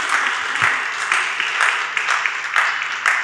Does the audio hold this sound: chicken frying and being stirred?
no